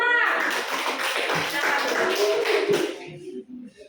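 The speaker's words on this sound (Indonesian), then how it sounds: "Tepuk tangan untuk kelompok 5" Classroom of students clapping together for a group, a dense burst of many hands fading out toward the end.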